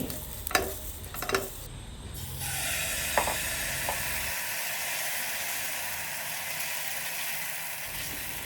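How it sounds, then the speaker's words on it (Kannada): Jaggery wheat dosa fries on a pan with a steady, close hiss of sizzling oil, preceded by a few scraping and tapping sounds of a spatula, without voices. "ಎಲ್ಲ ದೋಸೆಯನ್ನು ಫ್ರೈ ಮಾಡಿ ತೆಗಿತೀನಿ"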